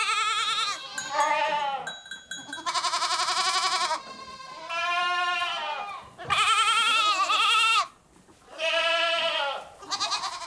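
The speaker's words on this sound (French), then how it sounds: "ils ont mémorisé leurs bêlements respectifs" Goat kids and mother goats on a cheese-making farm bleat back and forth in a series of loud, close, quavering calls, several overlapping cries with brief pauses between them.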